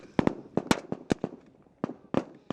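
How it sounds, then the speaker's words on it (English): Gunfire in a combat area, with bullets striking close by: an irregular burst of about ten sharp, loud cracks, near and separate, with short gaps between them. "Some of those bullets were very close to me."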